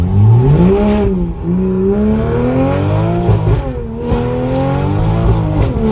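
A car accelerates hard with wheels spinning, its engine revving up and down through several loud rising sweeps, close and dominant.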